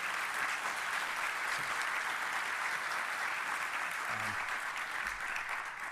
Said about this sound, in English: So maybe just a round of applause for